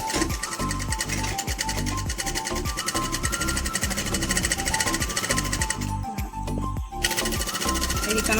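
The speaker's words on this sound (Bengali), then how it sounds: "এটা মেশিনে সেলাই করে দেখাচ্ছি।" A sewing machine stitches the top portion of a baby frock, running in a steady, loud, continuous mechanical whir with rapid needle clatter and a brief slowdown near the end, no voices.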